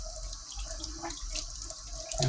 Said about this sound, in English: And we got the hot water going.